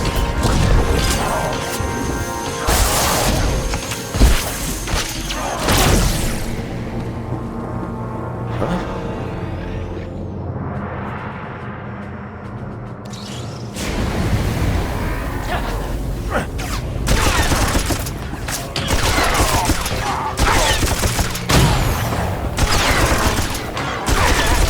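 Dense blaster and gunfire bursts rattle through a Star Wars battle in Knights of the Fallen Empire, with crashes and booms layered in a loud, continuous barrage that briefly thins before building up again.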